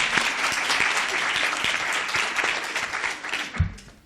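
An audience applauds after a university debate, giving sustained, dense clapping that fills the room and then thins out, ending with a thump near the end.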